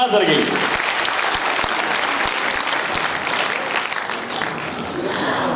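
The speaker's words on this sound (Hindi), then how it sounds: "तालियां हो जाएगा श्रीपाल सर की." Seminar audience bursting into loud applause at an LIC motivational event in Nagpur, dense clapping with a few sharp individual claps, sustained throughout while a host speaks over it.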